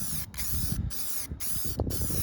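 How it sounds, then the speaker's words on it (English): Spray paint can laying down a thin coat on parts for a 1996 Chevy K1500 truck build, heard as four steady close hissing bursts separated by short pauses. "So you'll come in here just like this, just spray a thin coat on it"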